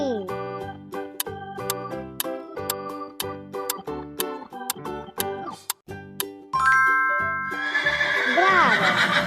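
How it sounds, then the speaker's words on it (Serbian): A horse whinnies in a long, loud, wavering neigh that rises out of a light tinkling, bell-like melody of plucked notes and then dominates the end. "Ova životinja brzo trči, može da se jaše. Dete mu se zove ždrebe. Kaže nji."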